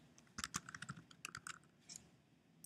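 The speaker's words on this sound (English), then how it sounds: "Then click in the box and start typing." Computer keyboard typing while entering text into a map drawing tool: a quick burst of close, crisp key clicks in an irregular rhythm, then a few scattered taps, with no talking.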